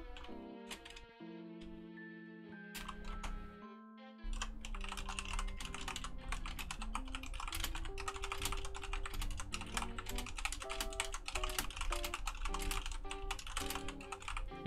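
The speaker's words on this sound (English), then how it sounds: "Enjoy the keyboard ASMR." Steady rapid typing on a computer keyboard, close and fairly quiet, a dense run of clicky keystrokes over a backdrop of game music.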